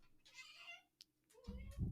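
A cat gives a single drawn-out meow at moderate volume, followed by a brief click and then a low rumbling noise near the end.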